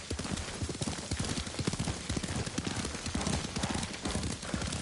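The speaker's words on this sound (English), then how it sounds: "Lord Sakai taught me to ride a horse." Horse hooves galloping under a rider in the video game Ghost of Tsushima, a fast, dense, continuous clatter of hoofbeats heard up close and steady throughout.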